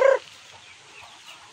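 A farm hen gives one short, sharp cluck right at the start among chickens and chicks in the provinces, followed by quiet, faint barnyard ambience.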